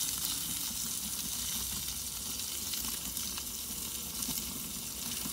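A steak sizzles steadily on the hot stone of an Ooni Koda 16 propane oven, a constant bright crackling hiss with small pops and no voices.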